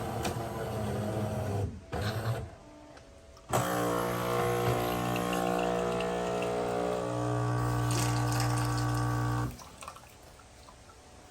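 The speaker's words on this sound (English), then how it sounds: "Let's see how much water it pulls when it does this." A Jura ENA 4 espresso machine runs its pump during a cleaning cycle with cleaning tablets, giving a steady loud mechanical hum with tonal whine for several seconds that cuts off near the end, with a brief start-stop earlier.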